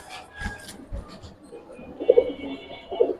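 Pigeons at a pigeon seller's loft give a few soft, low coos, two close together and another a moment later, following faint background talk and handling noises.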